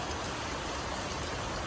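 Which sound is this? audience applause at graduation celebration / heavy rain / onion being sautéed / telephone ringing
heavy rain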